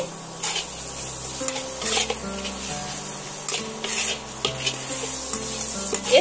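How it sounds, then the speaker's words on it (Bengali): Onions with chilli powder and other spices frying in a pan, a continuous loud sizzle with repeated scraping stirs of a spoon running throughout. "এখানে আমি পেঁয়াজ আর সমস্ত মশলার সঙ্গে ভালো করে কষিয়ে নিয়েছি।"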